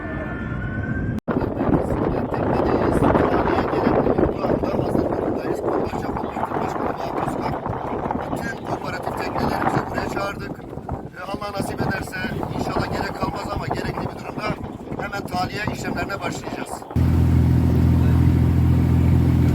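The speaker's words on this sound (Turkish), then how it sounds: "Şu anda Mojito teknesiyle Bodrum Holiday Resort oteline gidiyoruz." A boat races at top speed across the sea near Bodrum during a wildfire evacuation, its engine roar and rushing water mixed with heavy wind buffeting on the microphone, loud and continuous, ending in a steady low hum.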